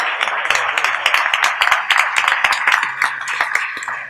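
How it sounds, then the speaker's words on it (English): An audience applauds a panel at the close of an AI and digital transformation event, dense steady clapping filling the room throughout, with a voice briefly audible over it. "Let's have a round of applause for our panel."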